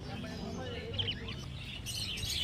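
Budgerigars chirp in quick scattered tweets at a bird market in Garia, fairly faint against a low background murmur.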